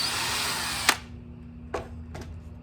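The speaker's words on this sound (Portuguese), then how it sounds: "marca aqui com a furadeira o lugar onde você vai ter dos 2 lados" A power drill marks hole positions on both sides of a wooden picnic table, heard as three short, sharp bursts after a stretch of broadband whirring, fairly close with no talk.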